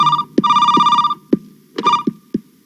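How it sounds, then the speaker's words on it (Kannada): Telephone bell ringing in a police station, repeated electronic ring bursts in an on-off pattern, loud and close, with low thumping beats between the rings and no talk. "ಫೋನ್ ಬಂತ್ ನೋಡಿ."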